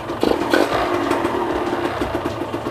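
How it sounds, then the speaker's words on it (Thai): A motorcycle engine, a Honda NSR or similar Thai two-stroke sport bike, runs steadily with a rough, clattering idle and slight revs, loud and close, with no talking. "แต่ต้องเร่งเครื่องหน่อยนะ"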